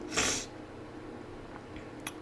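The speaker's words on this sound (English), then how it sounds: "I apologize for my sniffles, by the way." A single short, sharp nasal sniff from allergies near the start, then quiet room tone with a faint second sniff toward the end.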